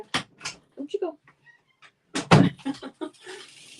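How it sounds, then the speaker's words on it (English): A pet cat meows several times in short bursts, close by, alongside soft scratching or thumping at a door, mixed with someone talking over it. "Can you hear my kitty cat? Oh, now she's scratching at the door."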